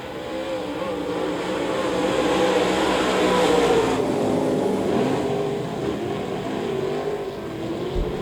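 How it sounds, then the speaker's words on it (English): Modified race cars roaring around a speedway during an eight-lap heat, a continuous loud engine drone that swells and fades as the pack passes, with no talk over it. "8-lap heat races for the modifieds"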